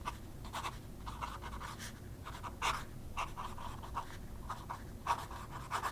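A TWSBI fountain pen with a steel nib scratching across paper with slight feedback, soft close strokes in an irregular rhythm, faint and alone.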